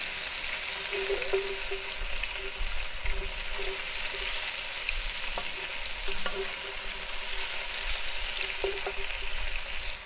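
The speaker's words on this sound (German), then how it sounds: "Und die tun wir uns jetzt auch noch mal ein bisschen mit anbraten." Mushrooms sizzle and crackle steadily in a hot Dutch oven, with occasional stirring scrapes and soft knocks, close by and continuous, no one talking.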